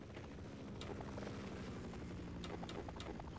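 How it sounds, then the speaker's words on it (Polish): A helicopter in the video game Half-Life drones steadily with a continuous rotor whir and engine hum, faint and unbroken throughout, with no talk over it. "Ciekawe, czyj to jest helikopter."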